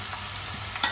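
Garlic fries in a pan while being stirred, a brief close sizzle with a sharp scrape of the spoon near the end.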